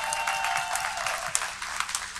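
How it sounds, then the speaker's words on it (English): A church congregation applauds during a baptism service, a sustained patter of many hands clapping together at moderate volume in an indoor sanctuary, steady throughout with no talk over it. "We can give Rachel a hand clap."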